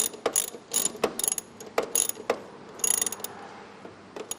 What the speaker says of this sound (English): we can continue to take the nut off to put our inline fuse on it